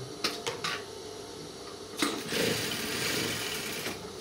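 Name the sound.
sewing machine stitching side pocket to body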